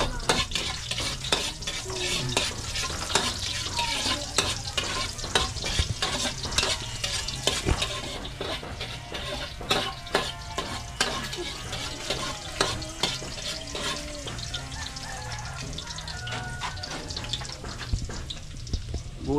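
Garlic frying in a pan, stirred busily with rapid scraping and clattering strokes over a constant sizzle, close and fairly loud throughout.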